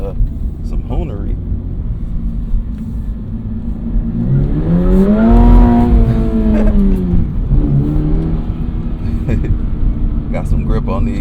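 Toyota GR86 sports car driven hard in a cramped lot behind a car dealership: a steady engine drone swells into a revving rise and falls away, with someone talking over it throughout.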